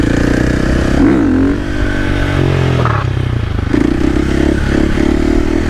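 A 2024 Yamaha R1 sport bike engine close by, loud and continuous with rising and falling revs and a harsh, rasping scrape layered through it.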